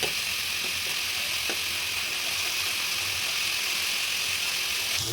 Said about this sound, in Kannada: ಒಂದು ಸ್ಪೂನ್ ಶುಂಠಿ ಬೆಳ್ಳುಳ್ಳಿ ಪೇಸ್ಟ್ ಹಸಿ ಸ್ಮೆಲ್ ಹೋಗುವವರೆಗೂ ಚೆನ್ನಾಗಿ ಫ್ರೈ ಮಾಡಿಕೊಳ್ಳಬೇಕು